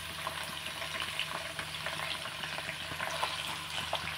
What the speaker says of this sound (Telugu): ఇదిగోండి, పచ్చిమిర్చి వేసేస్తున్నాను.